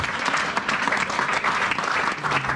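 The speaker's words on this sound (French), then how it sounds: "Acclame très très fort Jésus-Christ." A church congregation applauds loudly and continuously for Jesus Christ during a worship service, a dense, steady wall of clapping from many hands filling the room.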